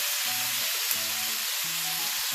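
Bulgogi sizzles steadily in a hot pan, a loud continuous frying hiss with no talk over it.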